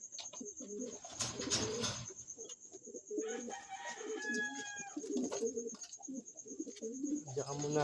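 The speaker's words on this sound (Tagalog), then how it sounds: "Ito ang ating ibon" Pigeons coo in a loft, soft repeated throaty calls close by, with other birds and a steady high electrical whine in the background and a person speaking now and then.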